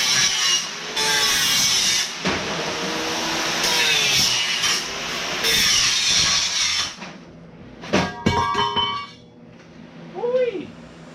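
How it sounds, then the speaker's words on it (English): Slag is knocked off a weld during jig fabrication for a 1933 Dodge, heard as a steady scraping and grinding texture followed by a few sharp metallic knocks and clinks near the end, with a brief voice. "By knocking off the slag here, it's a very simple process, doesn't take long at all"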